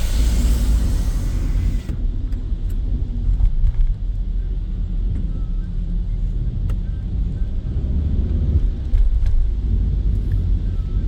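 Cars idling and creeping in a rainy, flooded traffic jam, with a steady low engine rumble close by, a brief rush of noise at the start, occasional faint clicks and people talking quietly.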